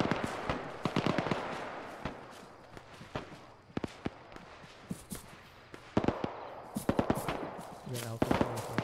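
Gunfire in the military shooter game Arma 3 crackles in scattered sharp reports and short bursts, some near and loud, others more distant, while radio chatter and voices talk underneath.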